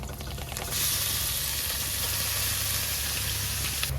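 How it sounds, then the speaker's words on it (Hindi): Sliced onions hit hot oil with crackling whole spices (cloves, a cinnamon piece, broken black cardamom) for soya chaap masala, a sudden loud sizzle bursting in after a quieter crackle and then holding as a steady hiss. "मसाले जैसे ही चटकने लगेंगे ऐड करेंगे इसमें प्याज।"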